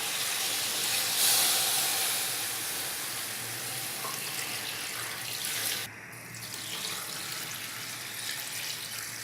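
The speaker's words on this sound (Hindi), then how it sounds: "अब मैं इसमें 2 जग पानी ऐड कर दूंगी" Water pours steadily from a jug into a pot of beef trotters for paya, with a continuous splashing rush, close by, shifting tone partway through as the pour changes.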